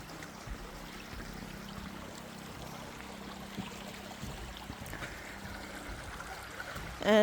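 Faint steady river water flowing near the Venus baths in a garden, a soft continuous wash with small trickling bits and a low hum, distant and quiet, with a brief louder knock at the very end.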